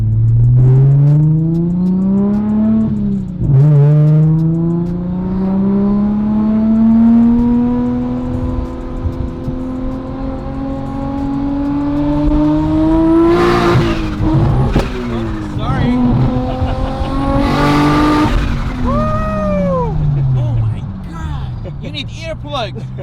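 A Nissan R34 GTR launches hard, its engine revving up through rising gears in long loud pulls with brief shift breaks, tire squeal mixed in, while people talk over it close by.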